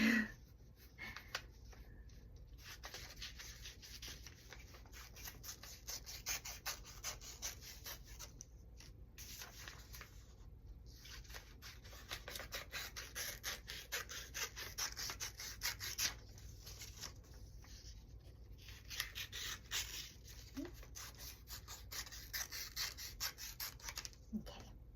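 Scissors snipping and rubbing through paper while cutting out two paper crown strips for a Halloween craft, a steady soft scratchy rasp with brief pauses between cuts, close and quiet, no talking.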